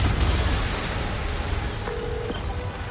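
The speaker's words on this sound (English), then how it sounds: "an explosion just..." A low, rumbling blast rolls through a tense moment in Marvel's Spider-Man, a dense broadband roar that stays loud and steady for the full three seconds with a faint tone briefly cutting through near the end.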